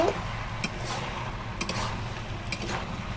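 Fish curry masala sautéed in a pan until its water cooks off: a steady low sizzle with a few soft stirring scrapes and ticks, close and moderate in level.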